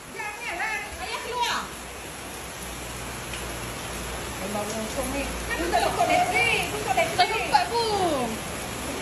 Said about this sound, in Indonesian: sekarang ni kan tengah hujan lebat